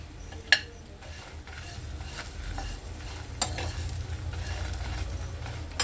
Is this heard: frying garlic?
yes